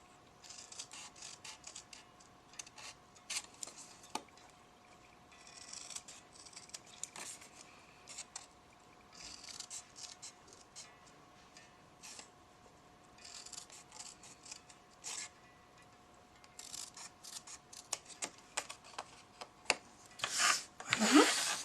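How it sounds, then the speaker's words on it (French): Scissors snip and bevel paper pieces for a small display-case pot lid, a run of quiet, irregular cutting clicks and rustles close by, growing busier and louder toward the end. "je coupe en face et je biseaute"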